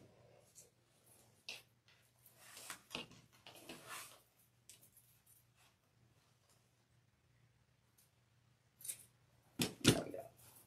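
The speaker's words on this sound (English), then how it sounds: "Sometimes you get these long pieces of tulle. Just trim them down." Scissors snip through long pieces of tulle mesh for a wreath, giving scattered sharp cuts in small bursts, with a louder cluster of snips near the end over a faint steady hum.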